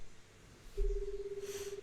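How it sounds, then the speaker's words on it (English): A Higurashi game's public payphone gives a steady dial tone after a soft thump of the handset, continuing evenly and clearly for about a second with no voices. "I hear the dial tone."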